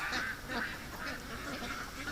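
Several pet ducks quack repeatedly in a busy, fairly faint chorus of overlapping calls, heard alone without talking.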